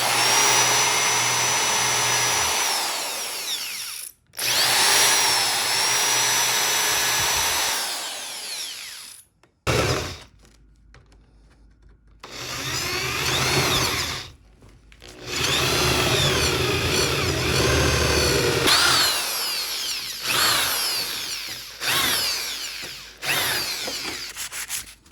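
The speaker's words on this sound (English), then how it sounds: "It just means our drill bit will not walk on us." Power drill bores holes in a Honda Element micro camper base build, whining in long loud bursts separated by short pauses and quiet gaps, with grinding bit noise, close and without talk.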